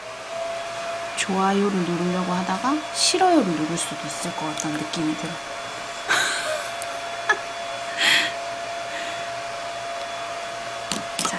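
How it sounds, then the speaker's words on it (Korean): A hair dryer hums steadily throughout while a person talks over it, with a few brief clicks and rustles. "드라이기 소리 때문에"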